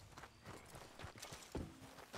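Horse hooves clip-clop in an irregular run of soft, muffled beats in Red Dead Redemption 2, faint and close, with no talk over them.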